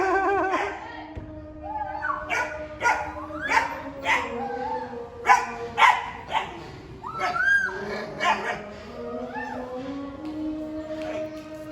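A dog barks and yips repeatedly in a home garden, a run of sharp close barks with short whimpering whines between them, while people talk nearby.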